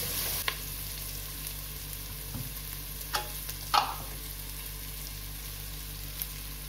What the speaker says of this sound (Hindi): इसको मैं अच्छी तरह से भून लूंगी।